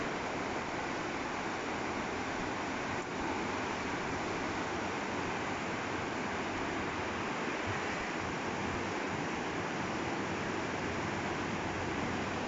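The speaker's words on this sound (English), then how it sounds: "This is the Kicking Horse River." Steady, broad rushing of the Kicking Horse River flowing along a forest trail in British Columbia, a continuous even roar of water with no pauses, close and filling the scene.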